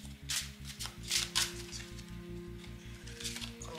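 Tarot cards are shuffled for a draw close up, giving a soft, quick riffling and flicking in short bursts over a steady low background hum.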